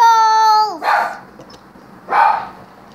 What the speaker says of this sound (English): Your guardian is barking.